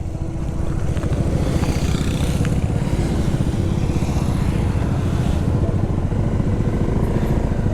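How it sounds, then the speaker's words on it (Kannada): Yamaha R3 motorcycle riding in a group with other bikes including a Scrambler, Himalayan and R15, a steady loud engine drone with wind rush heard from on board, continuous and unbroken. "ರಾಹುಲು ನನ್ನ R3 ಓಡಿಸ್ತಿದ್ದಾನೆ, ಯಶವಂತ್ ಬ್ರೋ ಸ್ಕ್ರ್ಯಾಮ್ಲರ್ ಓಡಿಸ್ತಿದ್ದಾರೆ"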